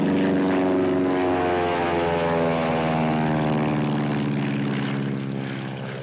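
A formation of Aero Patrol propeller aircraft from a 1934 film roars overhead in a loud, droning pass, the engine tone shifting steadily as it slowly fades at the end.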